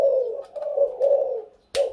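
A male Thai spotted dove coos in close, steady repeated phrases with short breaks, the calls loud and clear with no talking over them.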